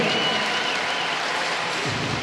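A basketball crowd at an ASEAN Basketball League game cheering and applauding after a basket, a dense, loud wash of claps and voices throughout.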